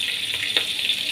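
Cabbage going into a frying pan with shrimp, broccoli and cauliflower, giving a steady close sizzle with a faint clatter of vegetables landing near the middle and no speech.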